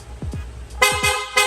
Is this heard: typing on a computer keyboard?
no